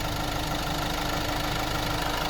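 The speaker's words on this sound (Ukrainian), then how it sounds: "Цей мотор. Він просто шепче, як бензиновий." Diesel engine of a 2018 Renault Master 170 van idling quietly and evenly, a steady low hum with faint mechanical knock running throughout, close and unbroken with no talk.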